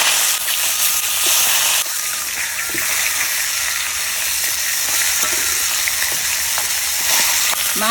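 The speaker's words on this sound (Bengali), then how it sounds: "মাছের মাথা ভাজা হয়ে গেছে" A fish head fries in a wok with an unbroken, close sizzle and hiss, plus faint scattered crackles, and no voices.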